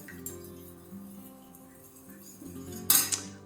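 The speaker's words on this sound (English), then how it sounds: "Just gonna give that a little stir" A utensil stirs melted candle wax in a container, giving soft, quiet scraping and light clinks, with a brighter glassy clink near the end.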